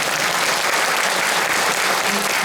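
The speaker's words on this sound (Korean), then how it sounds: "소개 올릴 때마다 큰 박수 부탁드리겠습니다." At a public debate opposing the removal of weirs on the Geum River in Gongju, an audience gives loud, continuous applause for a panelist being introduced, a thick, unbroken wall of clapping from start to finish.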